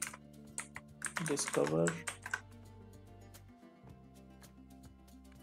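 Quick, soft clicks of typing on a computer keyboard, close and fairly quiet, with a brief burst of speech partway through and scattered keystrokes before and after it.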